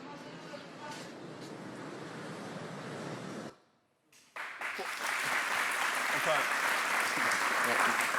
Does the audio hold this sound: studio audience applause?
yes